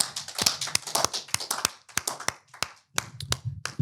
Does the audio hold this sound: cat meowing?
no